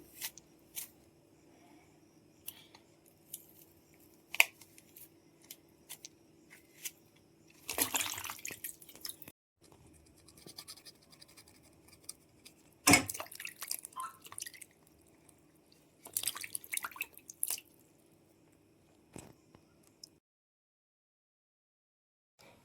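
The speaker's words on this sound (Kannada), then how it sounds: "ಈಗ ನಾನು ಈ ಅಣಬೆನೆಲ್ಲ ನೀಟಾಗಿ ಕ್ಲೀನ್ ಮಾಡ್ಕೊತಾ ಇದ್ದೀನಿ" Wild mushrooms being washed in water for a village-style sambar: intermittent splashes, drips and wet squishing in a few bursts with quiet gaps between, close by and without talk, ending in silence.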